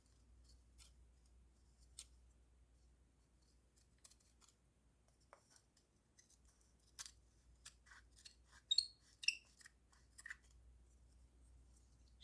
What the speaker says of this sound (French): je prends mes gros ciseaux et je coupe tout le tour